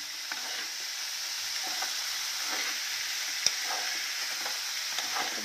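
Carrots and tomatoes fry together in a pan for a carrot and fenugreek sabzi, giving a soft, steady sizzle with a few light stirring clicks and one sharper tap, low and close with no talking.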